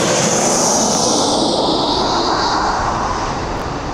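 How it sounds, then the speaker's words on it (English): Ryanair jet on a training flight at East Midlands Airport, a loud, close, continuous engine roar that holds steady and eases slightly toward the end. "here's Ryanair training flight again"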